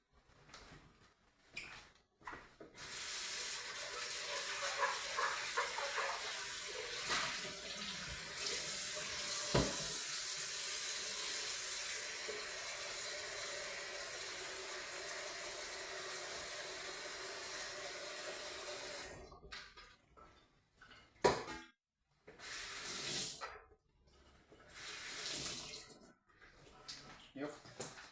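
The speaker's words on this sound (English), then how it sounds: "fill it with water." Tap water runs steadily into a pan for a chai and chicken biryani preparation, a continuous close hiss of filling lasting most of the stretch, then stopping with a few clunks and handling sounds.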